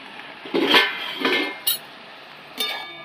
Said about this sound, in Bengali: ঢাকাটা আমি খুলে নিচ্ছি